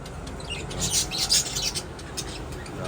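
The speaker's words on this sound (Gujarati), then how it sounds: "આપણા લવ બર્ડ મસ્ત મજાના તો કેટલા બોલે છે" Soft, high chirps from lovebirds repeat in quick, uneven bursts over a steady background hiss, fairly close.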